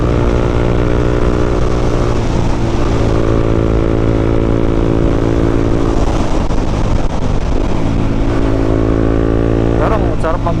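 A Honda CB 150X motorcycle engine runs up and down through its revs, near and loud, with the engine note rising and falling over several seconds.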